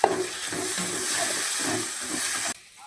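Chopped tomatoes hit a hot pan with onions for egg rice, setting off a sudden loud hiss that settles into a steady sizzle, then cuts off abruptly near the end.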